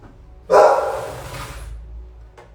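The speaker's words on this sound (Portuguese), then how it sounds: "A minha cachorra começou a gritar aqui." A dog indoors lets out one loud, sharp bark that trails into a strained yelping whine, followed by a brief faint yip, close by with no talking.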